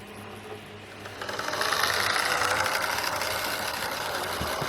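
A model locomotive on a DC layout pulls away, its small motor whirring and building to a steady, buzzing rumble close by, with no voices.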